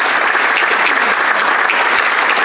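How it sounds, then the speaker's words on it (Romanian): Loud, continuous applause from a packed hall at a political rally launching a new movement, a thick unbroken wash of many hands clapping. "haideți să-i mai aplaudăm o dată"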